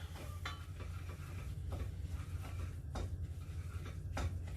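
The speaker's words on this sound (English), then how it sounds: "frying this to make it go a little bit brown" Minced meat fries in a pan on the stove, giving a continuous soft sizzle with occasional scrapes and clinks of a utensil against the pan, and no talking.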